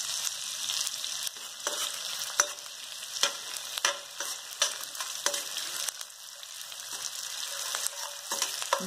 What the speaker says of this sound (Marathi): आता आपण हे पहिल्यांदा डिंक तळून घेऊया.